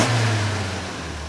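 A 1965 Volvo 1800 S engine fitted with Mikuni twin carburetors and velocity stacks, revving up with a loud, steady mid-pitched roar at close range and easing off slightly toward the end.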